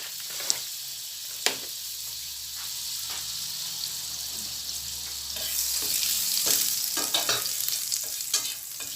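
Chicken wings fry in butter in a pan, a soft continuous sizzle that swells louder midway, punctuated by a few sharp clicks and knocks of stirring.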